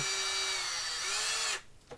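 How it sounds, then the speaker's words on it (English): A power drill bores out holes in line with the small rivets on a Warhammer 40k Necromunda plastic floor tile, a steady close whine that runs for about a second and a half, then stops abruptly. "All I'm doing is just drilling out in line with those little rivets"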